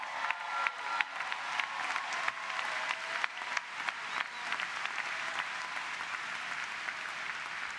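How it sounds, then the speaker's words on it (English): Applause at a law school commencement ceremony comes from a large audience as a sustained wash of clapping with sharper claps standing out near the start, holding steady throughout. "Michael, stand up and get a round of applause"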